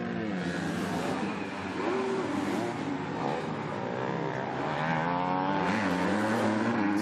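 EMX250 motocross race motorcycles at the MXGP of The Netherlands in Oss, engines buzzing and revving loudly and steadily throughout, several bikes blending into one continuous high-pitched roar with rising and falling revs.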